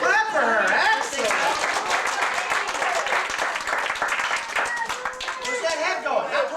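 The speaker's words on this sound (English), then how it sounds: "Let's clap for her." A small group claps for a child at an animal presentation with a chinchilla, loose, close hand claps in uneven rhythm running under talk and cheering voices.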